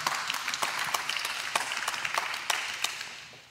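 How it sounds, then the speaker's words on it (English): Church congregation claps during a service, a moderate patter of individual hands with distinct sharp claps standing out, fairly close and fading toward the end. "And yeah, we can clap for that."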